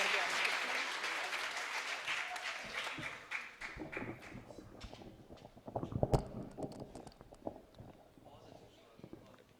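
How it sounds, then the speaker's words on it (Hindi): An audience claps at a Hindi poetry gathering, a kavi sammelan, with a full burst of applause that fades out over a few seconds into scattered claps and someone speaking. "एक बार और जोरदार तालियों से आप"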